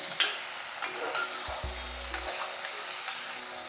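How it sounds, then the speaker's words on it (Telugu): Chopped vegetables including green beans and potato sizzle and fry in hot oil for semiya upma, a steady close crackle with stirring scrapes and a brief low thud midway, no talking. "ఈ వేసిన కూర ముక్కలన్నీ నూనెలో వేగటమే కాకుండా ఇది వేడికి మగ్గేలాగా కావాలన్నమాట."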